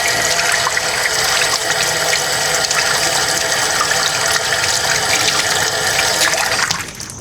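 Hummingbird feeders rinsed under running tap water: a steady, close, continuous rush of flowing water that holds even for about seven seconds and then drops away at the end.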